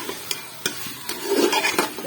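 Beef keema with finely chopped potatoes fries and gets stirred in a pan: sharp spatula scrapes land every half second or so over a soft, continuous sizzle.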